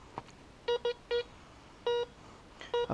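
A metal detector sweeping a forest relic-hunting site where coins are being dug up gives short, clear electronic beeps, five or six bursts of uneven spacing, close and alone against a quiet background.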